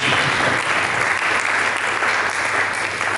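Continuous, steady applause from a church congregation during a sermon, many hands clapping evenly for several seconds at a strong, unbroken level without any talking.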